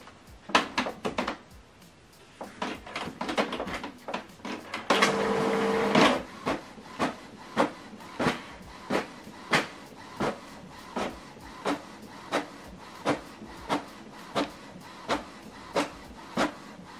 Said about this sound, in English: Printing is completed